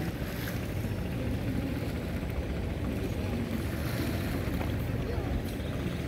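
Steady broadband rumble of boat engines and wind over water at a crowded ferry crossing between Samar and Mindanao, continuous and fairly loud with no clear voices.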